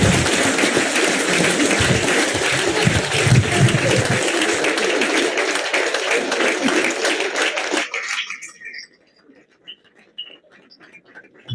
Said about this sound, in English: please put your hands together in an applause for me